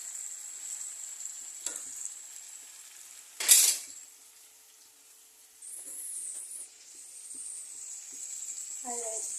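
Small-fish curry sizzles steadily in a pan while a utensil stirs it, with a sharp metallic scrape against the pan and light clinks, and the frying hiss rises and falls close by.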